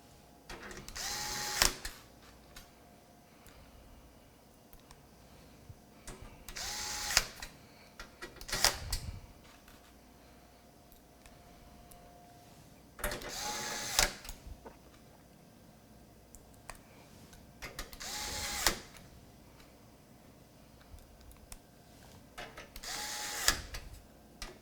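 A power screwdriver drives radiator screws into a Be Quiet Pure Base 600 PC case in repeated short whirring bursts, roughly eight separated by pauses, close and fairly quiet with faint clicks between.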